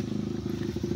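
A motorcycle rolls past nearby on a rural road beside a kamyas tree, its steady low engine drone holding at a moderate level for about a second.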